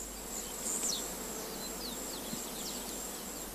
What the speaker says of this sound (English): a bee approaches a flower with her antennae stretched forward